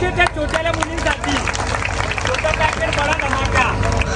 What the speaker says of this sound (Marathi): एकदा टाळ्या होते त्या छोट्याल्या मुलींसाठी.